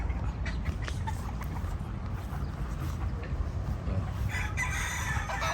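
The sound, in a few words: chickens and roosters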